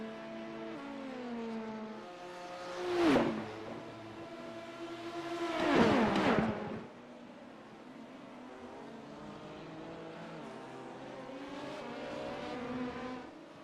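LMP2 prototype sports race cars in a Lonestar Racing Sports Car Series race pass through the first chicane, their engines rising in pitch as they approach, dropping as they brake and downshift, then accelerating away. Two loud passes are followed by a steady hum of more cars.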